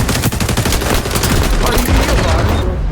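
Gunfire in the video game XDefiant comes as a loud, dense burst of rapid shots that runs without a break for a few seconds, filling the whole sound.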